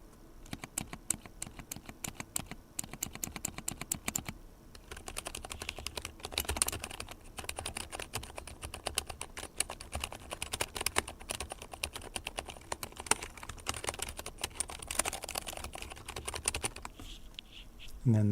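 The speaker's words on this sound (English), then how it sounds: "Here's my novel keys keyboard." Rapid, steady typing on a NovelKeys mechanical keyboard, close and crisp, with dense clacking keystrokes throughout and a brief pause partway through.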